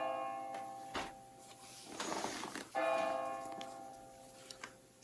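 A Verdin 720 digital carillon sounds church bells, with sustained tonal ringing and a few louder struck tones over a quiet background, with no talking.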